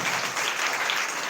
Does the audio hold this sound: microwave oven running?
no